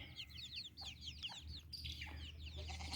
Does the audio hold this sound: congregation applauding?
no